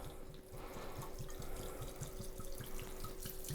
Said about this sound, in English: We're going to take our bourbon and we're simply going to pour.